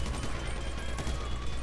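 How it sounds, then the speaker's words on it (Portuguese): Rapid gunfire in the online mode of the video game GTA V, a dense, continuous burst of shots with a heavy low-end rumble filling the whole moment, with no talk over it. "Caramba, que tiro foi esse?"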